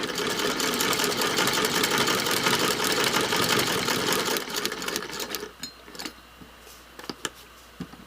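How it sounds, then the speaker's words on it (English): A sewing machine runs steadily, stitching the end of a seam on a paper-pieced quilt block, then stops around midway, leaving a few soft clicks and handling noises. "I'm just going to start up here and stitch that."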